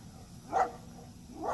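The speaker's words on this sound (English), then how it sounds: "letting his dog bark at me" A police dog barks from a patrol car stopped at a stop sign, two single barks heard at a moderate distance over steady outdoor background noise.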